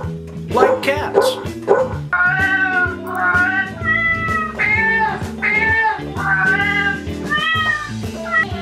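Animated plush farm-animal toys play electronic dog barks and cat meows, a lively run of repeated yips and meowing tones set to music.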